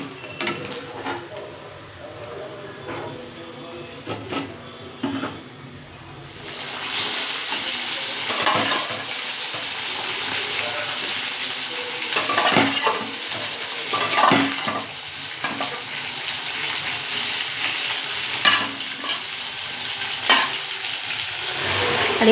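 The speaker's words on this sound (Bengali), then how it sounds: "এই যে এখানে ট্যাংরা মাছ ভাজা হচ্ছে" Tangra fish fry in a pan on a home kitchen stove, the fish slightly burnt, giving a steady close sizzle that swells louder partway through, with occasional stirring scrapes.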